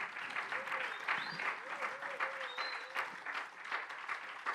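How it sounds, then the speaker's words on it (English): A panel audience applauds after a talk on empire, genocide and slavery, a steady wash of many hands clapping at moderate distance, with a few voices and whistles rising over it for the whole stretch. "Please give a resounding, warm round of applause to our panelists."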